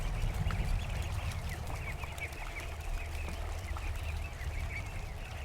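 Ducklings in a grassy yard give steady, faint peeping and quacking chatter over a low rumbling background, continuous throughout with no talking.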